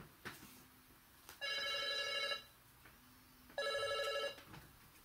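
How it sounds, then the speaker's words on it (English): A telephone rings twice in a quiet room, each ring a bright, buzzing electronic trill lasting about a second, with a short gap between rings and faint background hum. "Allow me to get the phone."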